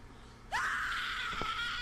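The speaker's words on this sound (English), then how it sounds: "Oh, it screams." A single sharp scream from a character in the video game The Cat Lady, bursting in suddenly and held for over a second with a breathy edge, loud against quiet background.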